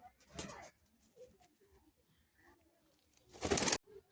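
Andhra pigeons at a bird sale, heard as soft cooing and brief calls with two louder bursts of wing flapping or fluttering near the start and end, close by and otherwise quiet.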